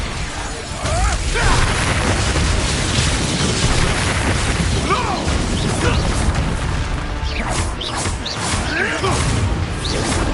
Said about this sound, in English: Flash explosion!